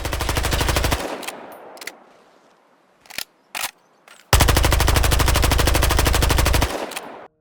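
The MP5 Navy submachine gun in Battlefield Hardline fires a loud sustained burst, pauses for a few scattered single shots and clicks, then fires another long continuous burst. The sound is close, with no voices.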